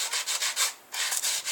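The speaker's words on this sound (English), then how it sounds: "I'm going to finish that up with sandpaper" Sandpaper rubs back and forth across a wooden bow, in close rhythmic strokes of roughly five per second with one brief pause. No one speaks.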